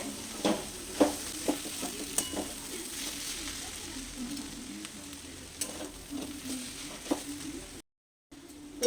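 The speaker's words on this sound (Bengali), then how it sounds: "চলো আবার ঢাকনা খুলে আরো একবার নেড়ে দিই" Cabbage with fish head frying in a pan makes a steady, close sizzle, with a run of rhythmic scraping stirs from a spatula.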